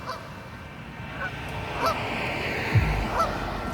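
A large, plump duck-like bird being chased gives several short, scattered honks at mid distance over a steady outdoor background noise.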